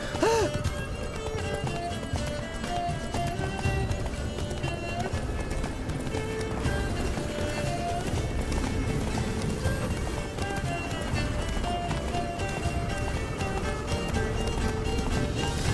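Roach, the horse from The Witcher 3, gallops in a steady, continuous clip-clop of hooves with an occasional whinny, heard under a mix of game sound and spoken dialogue.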